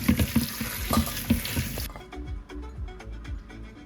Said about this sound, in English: give it a nice wash in cold water